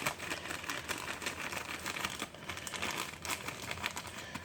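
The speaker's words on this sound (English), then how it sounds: "you ever try to unzip a Ziploc with one hand?" A Ziploc bag worked open with one hand gives a continuous close crinkling and rustling of plastic, with small ticking clicks along the zipper, fairly quiet and with no voice.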